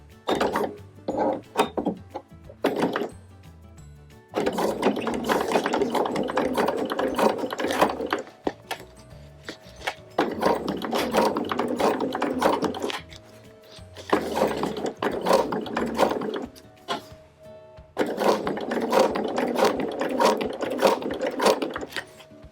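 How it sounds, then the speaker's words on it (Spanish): A sewing machine slowly stitching fabric to clear plastic for a zippered organizer runs in long steady mechanical whirring bursts, close and fairly loud, separated by short pauses and a few brief starts. "y bien despacito vamos a ir cosiendo."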